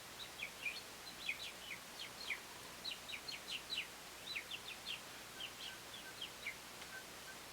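Robins chirp in a steady run of short, bright calls spread across the whole stretch, fairly faint and alone over a quiet low background.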